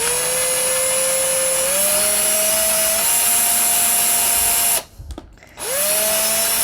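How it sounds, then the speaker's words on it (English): A power drill runs steadily into a heavy book such as a phone book, its whine rising in pitch as it bores, then stopping briefly before spinning up again; loud and close, with no talking. "And drilling into a book is a nice thing to drill into"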